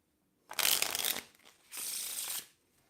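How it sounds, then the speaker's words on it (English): Two quick riffle shuffles of a deck of cards, each a dense fluttering burst lasting under a second, close and clear with silence around them. "Give the deck another shuffle quick."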